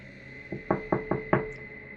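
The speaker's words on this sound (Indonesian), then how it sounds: "Aku mengetuk lagi lebih keras, namun kali ini dengan teriakan." Five firm knocks on a door in a quick, slightly uneven rhythm, close by, over a steady background hum.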